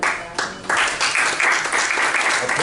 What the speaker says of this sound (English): Applause is not necessary.